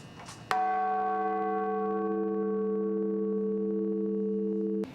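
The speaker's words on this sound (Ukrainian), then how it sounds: "новинам все-таки пощастило почути звучання майже 700-літнього дзвону" A single large, nearly 700-year-old church bell strikes once and its deep, rich tone hangs on, slowly ringing out with layered overtones for several seconds.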